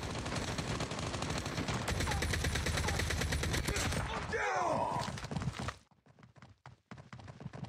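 Gunfire from the video game Call of Duty Mobile rattles in dense bursts under excited talk, then gives way to a few sharp isolated shots in a quieter stretch near the end.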